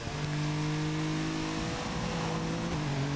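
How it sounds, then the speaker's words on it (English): Racing engine of an Alfa Romeo GTV in the Toca Race Driver game at Vallelunga, droning loud and steady with sustained revving tones that rise and shift pitch throughout. "This car's engine noise is very loud"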